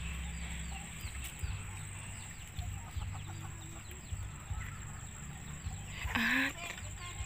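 Native chickens cluck and chatter close by on a small Philippine farm, with steady soft calls and one louder squawk near the end, heard alone with no talk.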